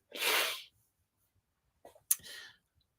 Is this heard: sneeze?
yes